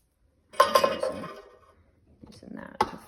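Cooked pears are ladled into glass canning jars, a few close clinks of ladle on glass, then softer pouring and one more clink near the end, with no talking.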